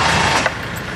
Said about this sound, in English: I'm going to turn on the car to get the power steering running.